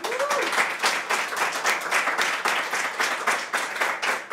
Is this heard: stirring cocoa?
no